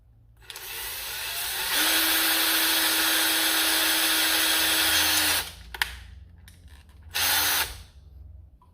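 A power drill bores holes into the plastic shell of a Nerf Fortnite Legendary TAC blaster, a loud whining run of several seconds that stops abruptly, followed by two short bursts.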